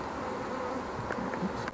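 Honeybees buzz continuously in the April air during an orientation flight outside the hive, a dense steady hum of many insects with a few louder individual bees passing close.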